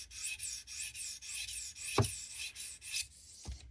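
A knife blade is drawn across a 220 grit sharpening stone on a Tsprof Pioneer guided system, giving repeated close, soft rasping strokes in an even rhythm, with a couple of sharper scrapes.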